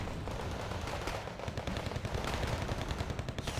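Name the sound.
mortar fire in video game Wargame Red Dragon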